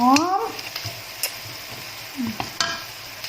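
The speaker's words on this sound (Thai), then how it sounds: "อันนี้กาพริกแกงเสร็จแล้วก็เอามาผัดน้ำมันนะคะ" Soft sizzling and scraping of Thai curry paste frying and being stirred in oil, with a brief voice at the start.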